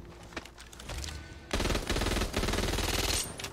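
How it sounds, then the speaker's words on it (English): A Vector submachine gun fires in Back 4 Blood: scattered shots at first, then a sustained, loud, rapid burst of automatic fire. "That's the Vector right there."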